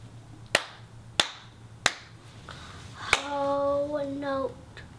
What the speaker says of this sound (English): we're gonna clap it all the way from the beginning to the end